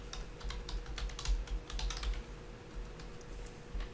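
Typing on a computer keyboard, a run of quick, irregular key clicks close by over a low steady hum, with no one talking.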